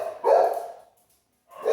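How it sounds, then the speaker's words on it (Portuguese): A single dog gives two loud, close barks: one full bark, a short silence, then the start of another. "Aí agora temos um cachorro para nos animar."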